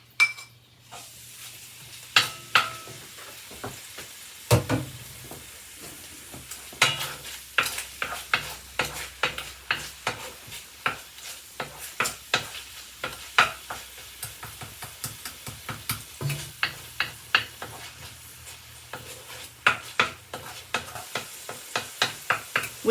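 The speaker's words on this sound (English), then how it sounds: "put our garlic, our pepper, and our ginger in here and let that fry up a little" Garlic, pepper and ginger fry in melted coconut oil for a red lentil curry, giving a steady sizzle under repeated sharp clinks and scrapes of a stirring utensil against the pan, close and unaccompanied by speech.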